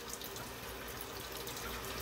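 Hot water gushes steadily from a tap into a sink while dyed polyester chenille yarn is rinsed, a close, continuous splashing hiss with no talking.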